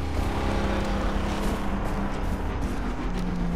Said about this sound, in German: Da hören wir auch schon ein Auto.